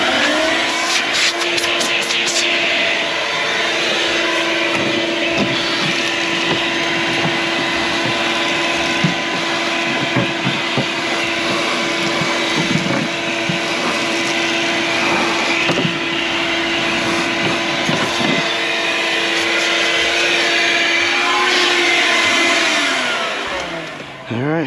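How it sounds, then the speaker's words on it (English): A vacuum cleaner runs continuously with a loud, steady motor whine and airflow rush during a door glass replacement on a 2019 Porsche Macan, holding level for the whole stretch with no talking. "let's go ahead and do a quick little vacuum again"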